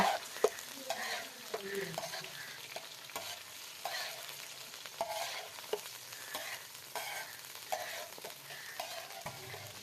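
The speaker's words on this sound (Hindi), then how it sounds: "अच्छी तरह से फ्राई करेंगे कलेजी को" Beef liver fries in hot ghee on a tawa, a continuous close sizzle broken by repeated scraping and stirring strokes of a spatula, with no voices.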